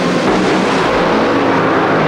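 Drag cars launching off the start at the 1979 NHRA Spring Nationals, one of them losing its engine: a loud, dense, continuous engine roar fills the whole stretch with no pause.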